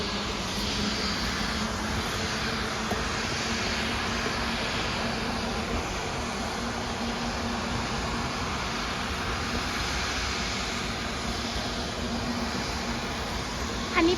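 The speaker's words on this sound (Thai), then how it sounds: "เป็นเครื่องบินนะคะคุณผู้ชมจากจีนลำที่ 2 ที่เดินทางมาถึงที่ท่าอากาศยานานาชาติแม่สอดนะคะ" The second airplane from China arrives at Mae Sot International Airport in Thailand. It gives a continuous, steady engine roar that stays loud and unbroken throughout, with no clear speech over it.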